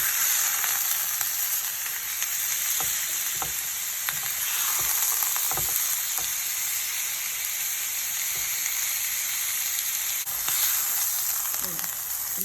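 Steady, loud sizzling of beef searing in a pan over the highest heat, with occasional scrapes and light taps of a utensil throughout.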